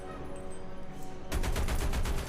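Tank cannon fire in War Thunder, a quiet lull suddenly broken by a loud burst of rapid repeated shots that continue to the end.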